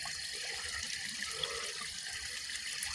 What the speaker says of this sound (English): Water does flow.